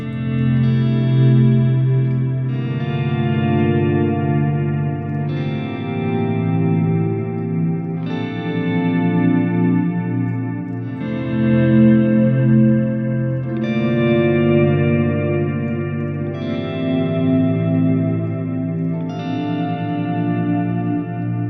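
Layered electric guitar chords swell in slowly one after another, washed in echo and reverb, dense and lush, with no voices.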